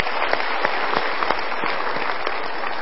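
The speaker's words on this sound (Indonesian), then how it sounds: "Kita berikan tepuk tangan dulu." Continuous applause from the audience at a motivational seminar, dense steady clapping with a few sharper individual claps standing out, filling the whole moment.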